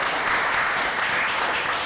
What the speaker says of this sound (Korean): 다시 한번 반가운 박수 한번 보내주시겠어요